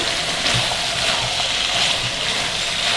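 Chopped tomatoes and julienned onions sizzling in a hot pan while being mixed, a continuous close frying hiss with soft stirring thumps and no speech.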